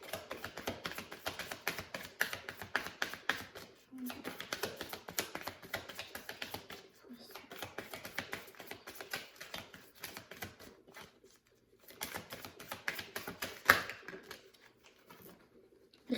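Tarot cards are reshuffled by hand, making soft, rapid riffling and tapping clicks in quiet bursts with brief pauses between them.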